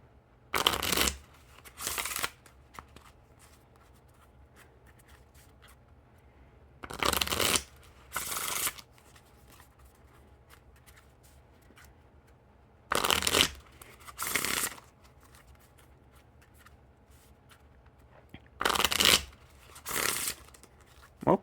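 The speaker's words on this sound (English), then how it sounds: "And now time for the Riffle Shuffle or Bridge Shuffle." Ellusionist Purple King Slayer playing cards given riffle and bridge shuffles in four separate pairs of short, crisp bursts, each ripple of cards followed by a quick bridge cascade, close and clear with quiet pauses between.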